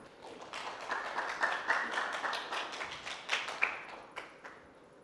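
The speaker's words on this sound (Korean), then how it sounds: "큰 박수 부탁드립니다." An audience at a university lecture event applauding as a student researcher is welcomed, individual claps building to a moderate crowd clap, then thinning and fading out toward the end.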